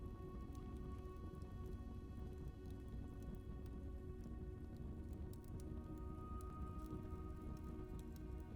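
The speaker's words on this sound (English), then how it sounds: "It's stormy in Arch Aries, so it must rain" Rain falls in a stormy setting in the video game Blue Prince, a faint steady patter with scattered drips and a soft low rumble underneath.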